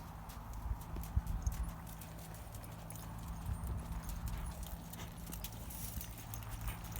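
Horse hooves clip-clopping steadily during a training session as the horse is pushed to move its feet faster, a continuous rhythmic walk of close, moderate footfalls without talk.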